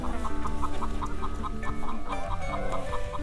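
Hens cluck repeatedly in a busy farmyard, steady overlapping clucks close by with other birds and background noise mixed in.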